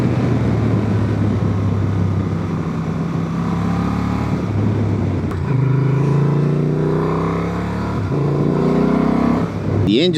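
Steady Honda Transalp 750 motorcycle engine drone while riding, with a low hum, rising slightly in pitch as it accelerates, close and continuous throughout.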